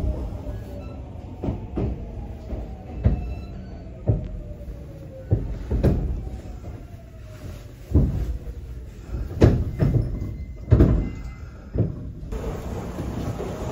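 A Kintetsu semi-express train bound for Gose pulls into Furuichi station, with low rumbling, a descending brake whine and a series of sharp clanks and thumps as the wheels cross rail joints, ending in a brief hiss, with no talk.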